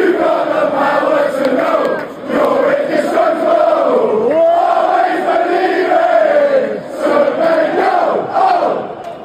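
Football fans sing a chant in the stands during an away match of Forest, a massed crowd voice rising and falling in long sustained phrases with short dips, loud and continuous.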